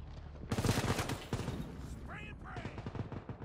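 Bursts of rapid gunfire from a malfunctioning gun in the video game World War 3, loud close shots with a couple of odd whistling tones, while a player talks over them.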